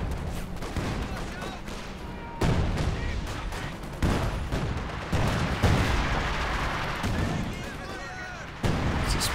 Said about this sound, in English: Barrage doing some good damage there as well.